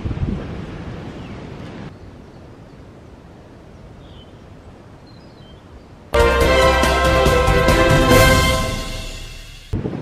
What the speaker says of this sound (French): Vous entendez le vent. Il y a un vent mais terrible.